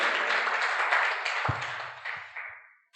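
A church congregation claps hands in praise during a Telugu Christian sermon, a dense burst of many hands that thins out and fades over a few seconds.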